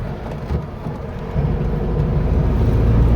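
A Volkswagen Beetle drives along after a clutch replacement, its engine and road noise a loud, steady rumble that swells slightly partway through, heard from inside the car.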